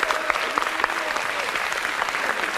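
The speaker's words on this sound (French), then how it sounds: "On peut l'applaudir très fort." A French television studio audience claps and applauds loudly and continuously, a dense patter of many hands, with a few voices mixed in.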